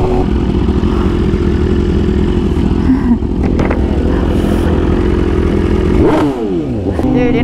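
BMW S1000RR motorcycle riding and shifting, a loud close engine drone with a shift near the end where the pitch drops and climbs again under wind noise.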